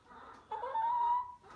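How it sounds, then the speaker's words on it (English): Free-range farm chickens cluck near a pasture, a short run of soft, close calls rising and holding for about a second before fading, with no talk. "All right, chickens are following me around."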